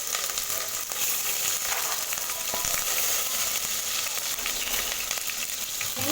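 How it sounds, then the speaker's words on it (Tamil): Four large onions frying in oil with cinnamon, cardamom and cumin for soya biryani, a loud steady close sizzle throughout with a few light stirring taps; no talk. "வெங்காயம் நல்லா வதங்கணும்"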